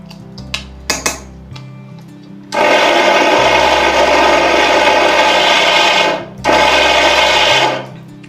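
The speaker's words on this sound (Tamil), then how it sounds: "இன்னும் கொஞ்சம் நாம் மிக்ஸ் பண்ணிடலாம்." A mixer grinder blends sesame seeds and jaggery in a jar, two loud bursts of whirring motor noise separated by a short pause, preceded by clinks of the jar being handled.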